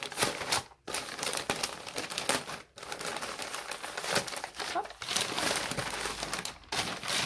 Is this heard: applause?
no